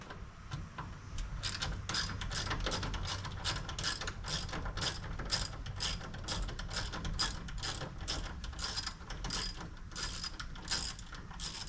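A socket wrench ratchets off a 10 mm bolt on a reservoir pump, giving a long run of quick, evenly spaced metallic clicks close up and fairly quiet.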